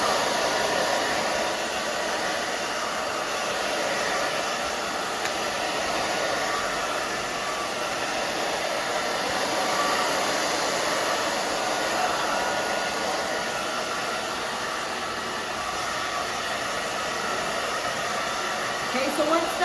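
A hair dryer blows steadily while drying hair into a stacked A-line bob, its even whooshing roar held close and unbroken for the whole stretch with no talk over it.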